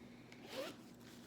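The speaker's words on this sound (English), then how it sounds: "And then it just zips up nice" A zipper on a small personal care pouch is pulled shut in one quick, faint close-up zip.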